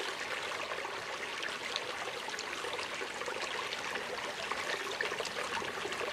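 Mountain stream water trickling through a Sawyer Squeeze filter pouch into a quart canteen, a soft continuous hiss and trickle, steady and fairly faint throughout.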